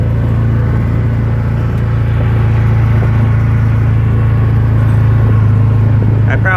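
Engine of a Wolverine 708 side-by-side running steadily at close range, a continuous loud droning rumble with a strong low hum and no clear revving, holding at an even level throughout.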